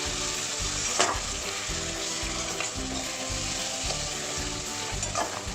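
Masala mixed with yogurt being stirred and fried in a pan for chicken bhuna, a continuous close sizzle broken by a rhythmic scraping of the spoon against the pan, with a few sharper spattering bursts.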